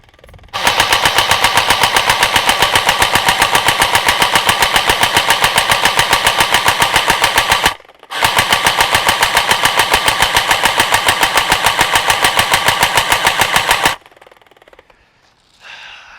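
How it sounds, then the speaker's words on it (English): An LCT AK electric blowback airsoft rifle fires full auto in two long, loud bursts of rapid, evenly spaced clacks with a heavy cycling bolt, split by a brief pause and followed by quiet handling noise. "the really rewarding feeling of firing this baby on full auto with that cycling action"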